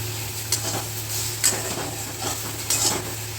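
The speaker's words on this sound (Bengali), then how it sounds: "এবার আমরা আগে যে নিম পাতাটা ভেজে রেখেছিলাম সেটা দিয়ে মিক্সড করে নেব" Fried eggplant tossed with fried neem leaves in a pan: a steady, close sizzle broken by three bright scrapes of a spatula against the metal, with no speech.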